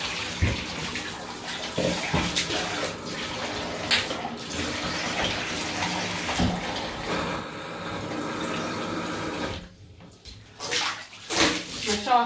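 Water poured from a pot splashes into a bathtub as it is rinsed after cleaning, a loud, close, uneven gush that breaks off near the end into a few shorter splashes.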